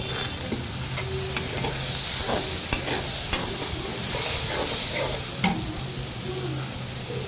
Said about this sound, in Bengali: চিংড়ি মাছগুলা দিয়ে দিলাম পানিতে দিয়ে।